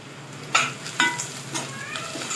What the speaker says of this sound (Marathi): सगळे मिश्रण एकजीव करून घेऊया